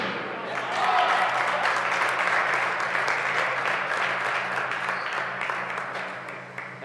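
A small, enthusiastic crowd applauds steadily at a BDO darts tournament in Namibia. The clapping stays close and continuous for the whole stretch, over a faint steady hum.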